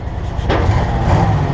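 A plow truck's engine revs up from a low idle, a loud close rumble that swells briefly and holds steady for about a second and a half.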